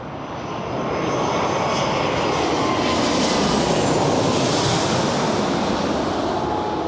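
A fixed-wing airliner roars past at Toronto Pearson airport, a loud, broad engine rumble that swells quickly and holds steady as it passes close by, with no talk.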